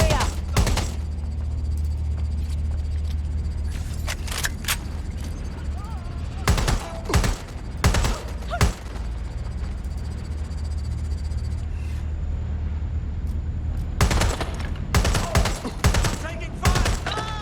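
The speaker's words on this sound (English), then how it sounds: "Taking fire!" Repeated bursts of gunfire in the video game Watch Dogs Legion on PS5, sharp volleys clustered in several loud runs over a steady low background hum, with speech mixed in between shots.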